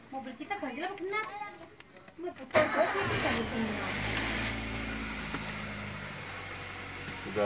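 A car engine with an HHO generator fitted cranks and catches, then settles into a steady, fairly loud idle; a voice and other speech are heard in the moments before it starts.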